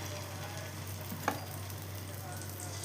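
Coconut adai batter sizzles on a hot pan with a steady, even crackle and a single brief tap partway through, with no one talking.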